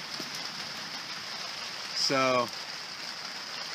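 Light rain patters on a tarp tipi as a faint, steady hiss from inside the shelter. A voice speaks briefly partway through.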